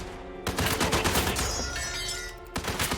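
Rapid video game gunfire bursting loudly up close, a dense rattle of shots that holds steady and then breaks off before a final short burst.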